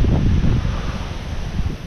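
Outdoor wind gusts buffet the microphone in a strong, continuous rush with low rumbling swells and no voices.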